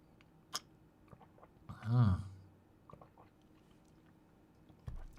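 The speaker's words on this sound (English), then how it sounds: "It sounds like I'm chewing concrete because the microphone's very good." Close, crisp chewing of homemade food during a football watchalong, a loud crunchy bite-and-chew burst in the middle with quieter mouth sounds and small clicks around it.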